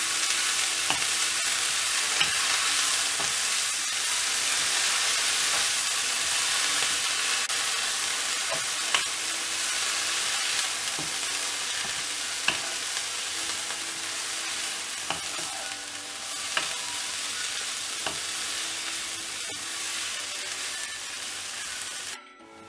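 Ponnanganni keerai greens stir-fry in a hot pan with a loud, continuous sizzle, broken now and then by sharp spatula taps and clicks.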